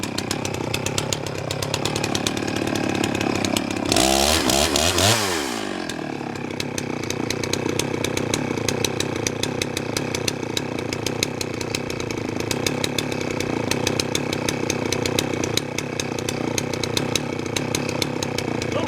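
A chainsaw bucks big firewood rounds, running steadily throughout with a loud, sustained whine and a brief surge in the middle as the bar digs into the wood; no talking.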